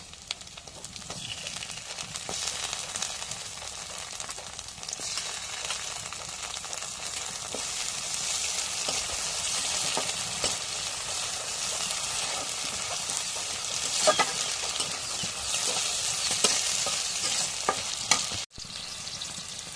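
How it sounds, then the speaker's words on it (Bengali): Dried fish (shutki) frying in a pan, a continuous close hiss of sizzling oil with faint scraping of stirring running throughout, steady and unbroken for a long stretch with no talking. "শুটকিগুলো জালের মধ্যে ভেজে নিই"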